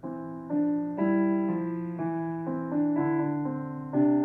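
Sustained piano chords shift about every half second, two lines moving together in steady, even steps, played alone at moderate volume.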